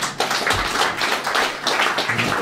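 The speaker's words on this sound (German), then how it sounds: "Applaus." An audience at a book reading claps, a brief patter of distinct, irregular hand claps from a smallish crowd, close and moderately loud.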